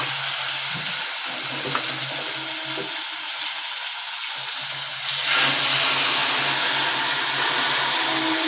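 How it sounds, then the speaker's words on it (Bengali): Cumin seeds tempering in hot oil make a steady sizzle that swells louder about halfway through, with a low hum running underneath. "এবার আমি ফোড়ন দিই, জিরে ফোড়ন দিয়ে দিয়েছি"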